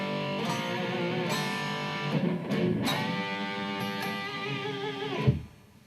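Overdriven electric guitar alternates ringing open strings with single improvised lead notes, sustained and bending slightly, played loud and close before fading out at the end with no voices.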